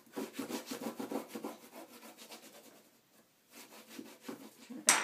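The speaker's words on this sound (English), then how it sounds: "flip it over and burnish the top portion" Steady rubbing and scraping of a bone folder burnishing paper for a mini album, a close, quiet back-and-forth rhythm with a brief pause before resuming.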